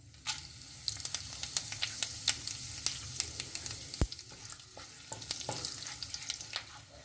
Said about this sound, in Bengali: তেজপাতা লঙ্কা সব ভাজা ভাজা হয়ে গেছে